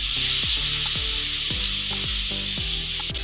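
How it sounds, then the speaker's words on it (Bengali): Thickly sliced potato pieces sizzle in hot oil in a pan, a constant bright crackle broken by regular scraping strokes as they are stirred about every half second. "তেলের মধ্যে আমি আলুটা দিয়ে একটু লাল লাল করে ভেজে নেব"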